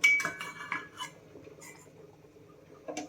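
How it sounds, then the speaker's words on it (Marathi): A plate is set down over a pot of rava kheer with a few close metallic clinks, then quiet kitchen hum, and another sharp clink near the end. "आता याच्यावरती प्लेट जी आहे ना ती झाकायची आहे"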